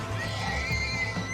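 A horse neighs and whinnies in a Western chase through a frontier town, drawn out over a low rumble of hooves and a dramatic backdrop, the call fairly close and steady with no talking.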